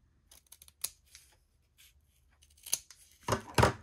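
Scissors snip through paper while a gatefold album is made, a few sparse cuts early on, then a louder cluster of close, crisp snips at the end, with no talking.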